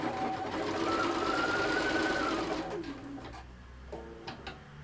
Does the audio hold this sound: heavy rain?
no